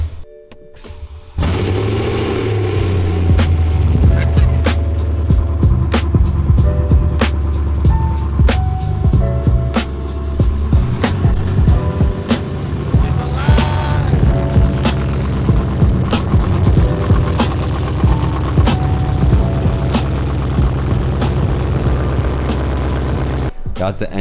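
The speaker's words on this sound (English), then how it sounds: "got the engine started" A BMW E90 M3 engine cranks and catches after a quiet start, then settles into a loud, steady, throbbing idle with a rumbling low hum that runs on for about twenty seconds.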